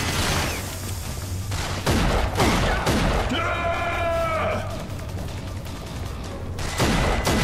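Rapid gunfire and bursts of shooting from the video game RAGE crackle through a busy combat mix, with dense sharp reports and a brief tonal effect in the middle, heard over game sounds.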